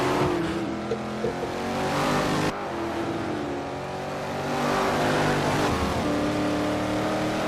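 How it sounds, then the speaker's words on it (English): Race cars racing around the Sedona track: a steady, close engine drone rises and falls as cars rev and accelerate, with no talk over it. "Real tight racing all around the track."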